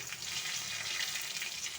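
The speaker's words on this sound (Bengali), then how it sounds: "শুকনো লঙ্কা ফোড়ন, পেঁয়াজ কুচি ফোড়ন দিয়ে দিলাম।" Dried red chili and chopped onion hit hot oil in a kadai already holding cumin and bay leaf. A soft, steady sizzle hisses continuously for a couple of seconds, close but quiet, with no voices.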